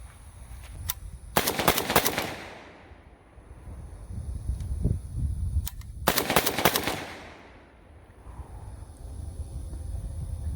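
AK rifle fitted with an RS Regulate GKR-7MS railed handguard firing two loud bursts outdoors, each a dense rapid string of shots lasting about a second, separated by a few seconds of wind and quiet background.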